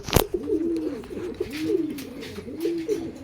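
Young breeder and flyer pigeons in a loft coo close by in repeated soft, rolling bursts, one call following another with a brief sharp knock near the start.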